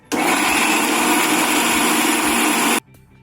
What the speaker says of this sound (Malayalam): ചൂടാറിയ ശേഷം ഇതിനെ ഒന്ന് മിക്സിയിലിട്ട് ഒരു കറക്ക് ഇറക്കിയിടുക